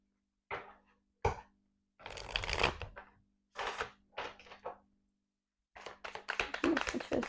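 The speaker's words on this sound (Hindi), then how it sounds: "I'm gonna pick that card up" Tarot cards being shuffled by hand in bursts of papery riffling and slaps, separated by short pauses, close and fairly quiet with no speech.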